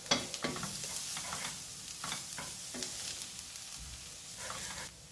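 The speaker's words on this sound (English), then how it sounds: "once our vegetables is sauteed evenly and thoroughly, like so" Vegetables and garlic sauté in a hot pan, with a steady sizzle broken by repeated scraping stirs at an irregular rhythm, close and fairly quiet.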